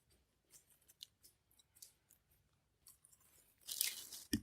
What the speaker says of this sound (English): I apologize if you hear me crunching